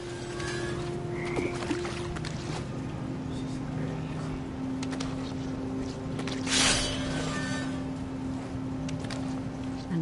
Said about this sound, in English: And toads.